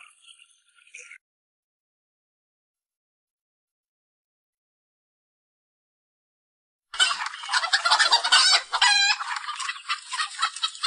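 Hens clucking and a rooster crowing at a rural reservoir in rainy weather, a brief burst at the start, then a long silence, then a loud, close stretch of excited squawking and clucking lasting several seconds.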